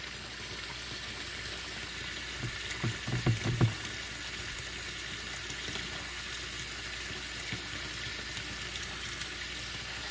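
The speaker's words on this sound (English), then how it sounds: "little bit of cold water and let it spill off the side" Cold water runs steadily from a tap into a plastic sink while carrots are washed, a constant close hiss with a few brief splashes and knocks early on.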